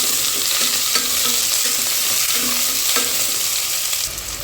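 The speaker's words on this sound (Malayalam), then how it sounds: "2 വലിയ ഉള്ളി മുറിച്ചതാണ്. നന്നായി വഴറ്റി കൊടുക്കാം." Chopped onions frying with bay leaf, cloves and cardamom in a pan, a loud, close, continuous sizzle with occasional stirring scrapes and no talking.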